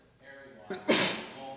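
A person sneezes once in a council meeting room, a sharp sudden burst cutting across a man's ongoing speech at moderate distance.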